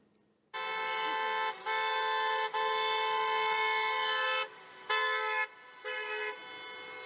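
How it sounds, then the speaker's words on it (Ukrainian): Car horns blare in long sustained blasts in a city center during a street protest, several overlapping tones held for seconds with brief gaps, loud and close. "Понад годину центр Коваля здригався від гучних сигналів автівок"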